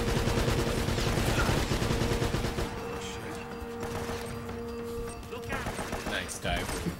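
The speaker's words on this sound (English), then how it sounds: "Oh, shoot the lock." Gunshots at a lock in the video game Uncharted: Drake's Fortune, a dense rattle of rapid shots over steady game noise and music. The shots are loudest at the start and then fade into scattered impacts.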